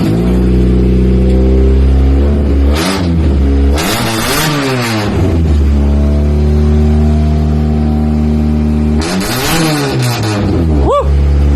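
A race car engine fires up and runs loud and close, idling with a deep throb between several sharp revving bursts that climb and fall back.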